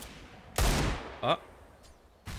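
Pistol fire in Counter-Strike on the Inferno map during a professional match, a few separate gunshot bursts spaced across the moment, heard alongside game ambience and a faint voice.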